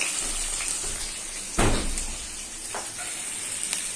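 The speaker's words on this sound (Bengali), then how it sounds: "পেঁয়াজ দিয়ে দিলাম এগুলো ভাজা ভাজা হোক" Onions and tomatoes frying in a home kitchen pan, a steady soft sizzle with a louder burst of crackling partway through, plus a few faint clinks.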